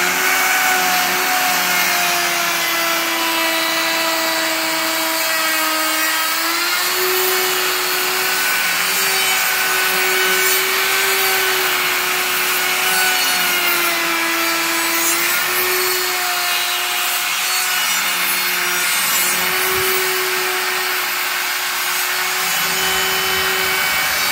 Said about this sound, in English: just a very old B&Q 20 quid router